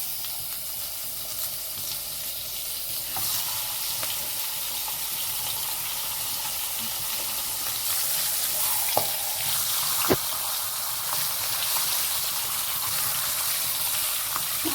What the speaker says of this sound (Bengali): এবার মাছের মাথাগুলো তেলের মধ্যে দিয়ে দিচ্ছি।